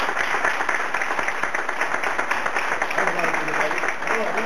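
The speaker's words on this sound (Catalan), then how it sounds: "Un aplaudiment per Manolo que tenim aquí" An audience at a song contest in Novelda breaks into sustained applause, a loud, dense clatter of many hands clapping evenly throughout, with a voice briefly audible near the end.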